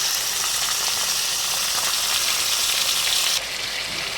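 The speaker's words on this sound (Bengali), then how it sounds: "তা মাংসটা কষিয়ে নিচ্ছি হালকা করে, চাপিয়ে দিয়েছি।" Meat being sautéed in a pan gives a loud, close, continuous sizzling hiss that drops off abruptly toward the end.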